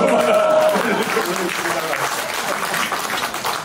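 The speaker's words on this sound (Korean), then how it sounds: "그게 박수!" Audience applause at a talk concert in Mapo, a steady wash of clapping that stays loud and then eases slightly, with voices mixed in underneath.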